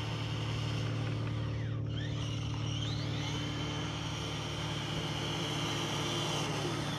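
Low, steady electric motor whine from a Traxxas TRX4 RC truck with a Fusion Pro 2300kv motor on 3S, running in first gear, a constant hum heard from close by with no talking.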